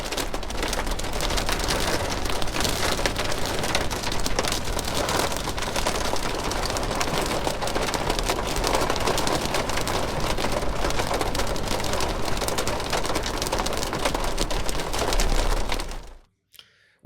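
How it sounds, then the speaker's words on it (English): Hail and heavy rain pounding an RV in Montana, a dense, loud, continuous drumming on the roof and body that stops abruptly near the end. "and it's hailing."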